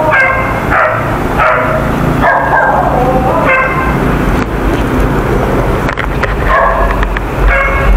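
A dog being walked outdoors gives several short, sharp barks and yips in irregular bursts over steady background noise from a passing car, loud and close, with no talking.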